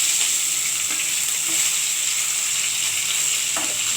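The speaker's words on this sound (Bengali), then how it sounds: "মাছটা ভাজা হচ্ছে।" Pieces of katla fish frying in hot oil, a loud continuous hiss and crackle close up with faint occasional clinks, no voices.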